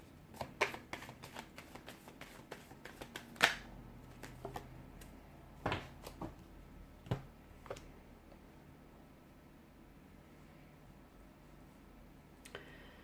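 Cards are shuffled in quick riffling bursts with sharp snaps and taps, close and fairly quiet, no talking.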